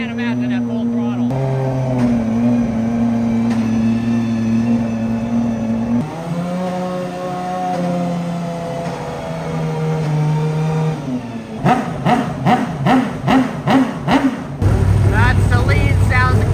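Saleen Le Mans race car engine raised up on a stand, revving loud with sustained harmonic drones that shift pitch, then rapid throttle blips near the end, with people talking nearby.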